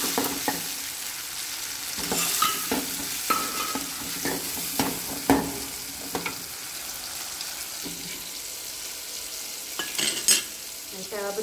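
Onion and tomato frying in a pan, a steady sizzle broken by repeated scraping and clinking stirs of a utensil against the pan.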